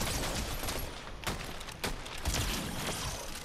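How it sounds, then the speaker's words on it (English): Gunfire in the video game Fortnite crackles in a dense, noisy spread of shots for a few seconds, fairly loud and with no talk over it. "They're shooting at me."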